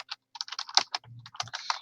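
Keys on a computer keyboard clatter in quick, irregular bursts of close, crisp taps with short pauses between words, alone without talk.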